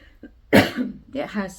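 A burst of harsh, close coughing, several rough hacks in quick succession with some throat clearing.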